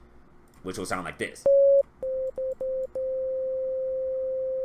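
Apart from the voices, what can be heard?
pure sine wave from FL Studio 3x Oscillator plugin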